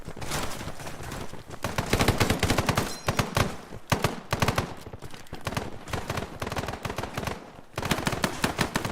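Automatic gunfire rattles through a tactical multiplayer shooter firefight, dense overlapping bursts and single shots loud and continuous across the whole stretch, with brief lulls between volleys.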